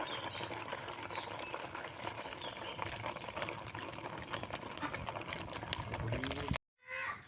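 Achappam batter on a mould frying in hot oil gives a continuous crackling bubble and hiss, steady and close, before cutting off abruptly near the end.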